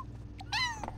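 A single short meow from a cat in the video game Petz 4 rises clearly above a low background hum, with a few faint clicks just before it.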